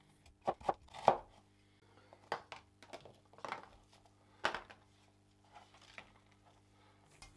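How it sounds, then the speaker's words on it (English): A knife chops through an onion top to bottom, stem to root, on a cutting board: a series of sharp, close thunks and slicing taps in an irregular rhythm, with quiet gaps between the cuts. "Slice your onion. I'm doing these top to bottom, stem to root."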